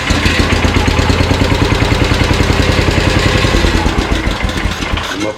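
A Simplicity 7114 garden tractor engine runs with a holed muffler, giving a loud, close, steady idle with a throbbing, slightly rattly exhaust beat that eases a little toward the end.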